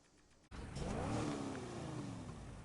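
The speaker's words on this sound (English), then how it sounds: "We're going to keep this engine in it because it does sound very nice." The V8 engine of an off-road vehicle bursts into a loud, close rev after a brief quiet moment, then holds a steady, throaty drone that slowly eases back.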